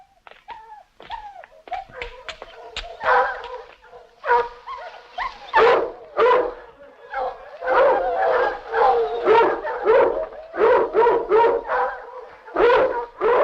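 Several dogs bark and yelp repeatedly in irregular bursts, some whimpering and howl-like tones mixed in, fairly close and loud over a quiet background.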